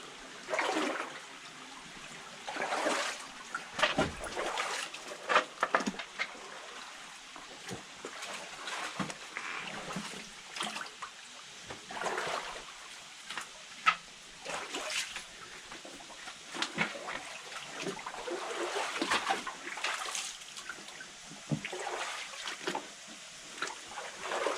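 Water rushes and splashes through a limestone cave in the Yorkshire Dales, a continuous churning flow with irregular surges and spatters, fairly faint and heard alone without talk.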